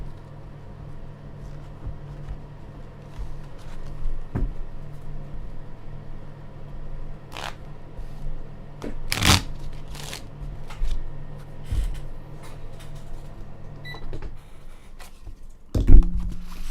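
Cards riffled and shuffled in short bursts, with a steady low hum in the background and no talking.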